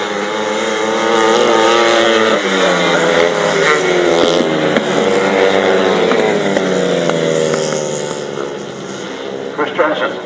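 Grasstrack racing motorcycles at the 2015 Frittenden Flyer, a loud continuous roar of several engines revving and shifting up and down in pitch as the bikes circle the track, with a voice talking over the noise.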